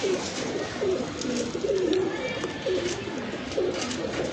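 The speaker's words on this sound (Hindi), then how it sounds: "ये हमारे पास ज़ीरी कबूतरी है माशाल्लाह, पर पल्ला बहुत अच्छा है।" A pigeon hen coos in repeated soft, rounded phrases, close by and steady over a low background hum, with faint voices in the background.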